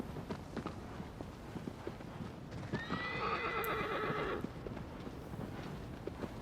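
A horse in the video game Shadow of the Colossus clip-clops along in a steady rhythm, then gives one loud drawn-out neigh midway before the hoofbeats carry on alone.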